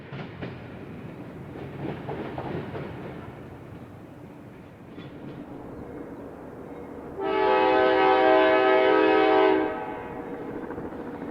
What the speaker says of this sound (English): the train returns east with the CFE 7822 in the lead